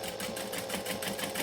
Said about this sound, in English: So I'm just going to top stitch along the bottom like this.